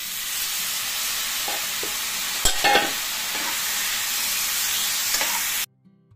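Turmeric and spices sizzle steadily in a hot frying pan, with a few louder scrapes and clatters as they are stirred, before the sound cuts off abruptly near the end.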